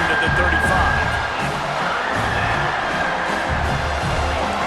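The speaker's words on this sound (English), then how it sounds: "Decibels rising as the crowd gets behind this defense on third down." Crowd noise from an American football video game swells steadily as fans cheer for the defense on third down, a dense, continuous roar under commentary.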